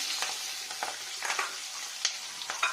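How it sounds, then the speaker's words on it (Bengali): Onion fries in a pan, a quiet crackling sizzle broken by a few sharper stirring scrapes and pops, brief and close with no talk. "এটা পেঁয়াজটা দিলাম ফ্রাই ফ্রাই ফ্রাই দিয়ে নিলাম"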